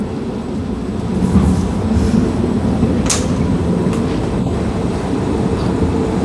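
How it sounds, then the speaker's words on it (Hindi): An Intercity train pulling into platform 1 at Sonepur railway station, a loud steady rumble of rolling wagons with faint clatter and occasional brief squeals over the whole stretch. "1 नंबर प्लेटफॉर्म रे हमर ट्रेन आसिक लागला।"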